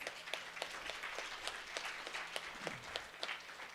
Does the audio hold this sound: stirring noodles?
no